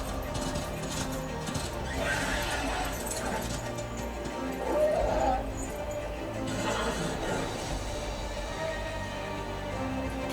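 In a Darksiders game trailer, a horse whinnies through a thick layer of rumbling orchestral music and effects, with clopping hooves, a narrating voice speaking over the scene.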